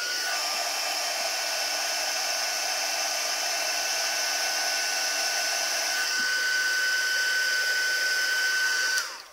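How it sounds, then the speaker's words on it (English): Heat embossing tool blowing hot air onto cardstock, a loud continuous whirring hum close to the ear that shifts tone once midway and cuts off abruptly at the end, with no talking. "I'm going to grab my heat tool now, this one, and I'm going to preheat it for about a minute"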